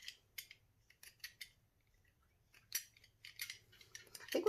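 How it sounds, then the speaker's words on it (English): Excess resin that has not yet set hard is snipped from the edges of shimmery mermaid-scale resin coasters, producing quiet, close scissor snips in small clusters with pauses between them. "It hasn't set up hard, so it's quite easy just to trim that."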